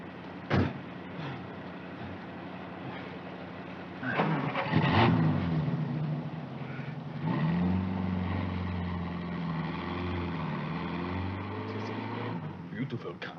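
A car door thumps, then an engine turns over and catches, revving up as the car pulls away and settling into a steady driving hum, with people talking over it.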